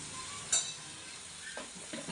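Potato pieces seasoned with black pepper and salt fry in a pan, giving a steady soft sizzle with a sharp stir or scrape near the start and a couple of brief clinks later.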